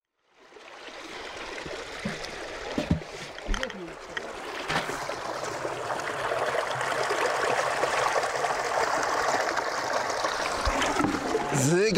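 Stored irrigation water pours out onto a carrot seed bed on a farm plot, a constant rushing, trickling flow that starts abruptly and stays close and steady, with a few small knocks early on.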